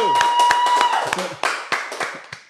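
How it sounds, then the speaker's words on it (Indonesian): Podcast hosts clap their hands in a quick, uneven burst of sharp claps close to the microphone. Talking runs over the claps at the start. "Tepuk tangan dulu."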